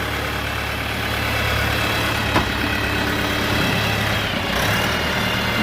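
A Shifeng 404 tractor engine idles steadily, a continuous close rumble with no change in pace and no voices.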